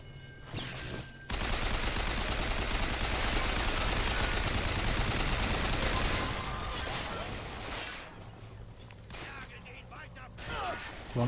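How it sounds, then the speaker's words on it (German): Heavy cannon fire and rapid gunfire in the video game Bioshock Infinite, a sustained loud barrage of blasts with crashing impacts that fades out toward the end, with a voice heard over it. "Das sind riesige Kanonen."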